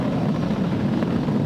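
A SpaceX Falcon 9 rocket carrying a crewed Dragon capsule roars through launch and ascent with a steady, dense, broadband rumble, unbroken and heavy for the whole moment with no voices over it.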